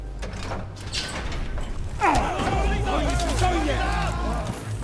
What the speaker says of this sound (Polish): Liczek już nie grąba, dobra, otwieram drzwi.